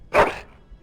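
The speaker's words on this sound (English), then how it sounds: "That is a wonderful dog." A single short dog bark sounds in the fantasy video game Dragon Age: Origins, close and clear, alone with a faint tail afterward.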